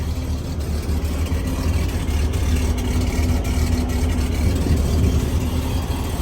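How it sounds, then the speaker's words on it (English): A 1966 Pontiac LeMans engine idles steadily with a deep, low exhaust rumble, constant and close, with no talking. "The exhaust has a nice little rumble to it too"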